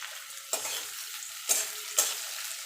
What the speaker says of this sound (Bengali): পেঁয়াজটাকে একটুখানি নাড়াচাড়া করে নেব। এখানে আমি কটা রসুন কুচিয়ে রেখেছিলাম সেই রসুনগুলো দিয়ে দেবো।